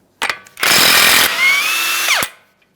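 A power tool whirs loudly in a sustained burst of a second and a half removing a 32mm axle nut on a 2013-2020 Ford Fusion 2.0L, its pitch dipping briefly before spinning down, with short mechanical clatters just before.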